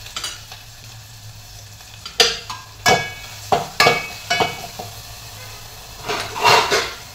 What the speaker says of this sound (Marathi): भावर झाकण ठेवून कणी कांदा टोमॅटो चांगला भाजू द्यायचा.